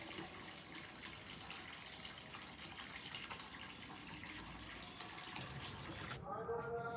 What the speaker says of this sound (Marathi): इथे 12 महिने 24 तास पाणी वाहतच असतं म्हणजे येतच राहतं